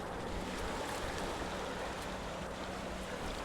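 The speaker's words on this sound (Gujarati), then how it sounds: "આમ તમે જોઈ શકો છો અહીંયા આગળ આ પાણી કેટલું ને વહી રહ્યું છે" Floodwater after heavy rain rushes along a drainage channel beside flooded paddy fields, a steady broad roar of flowing water with wind buffeting the microphone, no talking.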